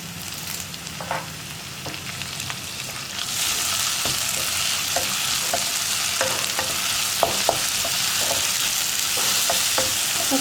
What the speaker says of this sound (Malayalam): ഒരുപാടങ്ങ് ബ്രൗൺ ഷെയ്ഡായി പോകണ്ട, ഒന്ന് പിങ്ക് കളറായിട്ട് വരുന്നവരെ ഒന്ന് ഇളക്കി കൊടുക്കുക